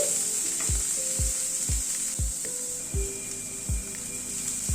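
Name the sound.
stirring salted mixture frying in a pan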